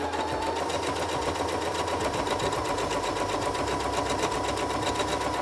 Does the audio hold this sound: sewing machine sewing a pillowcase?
yes